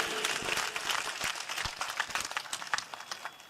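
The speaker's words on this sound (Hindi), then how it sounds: "तो एक बार जोरदार तालियां बजाइए इनके लिए।" An audience at a political gathering in the Luni assembly area of Jodhpur applauds a visiting delegation. The clapping is dense and fairly faint, with a few murmuring voices mixed in.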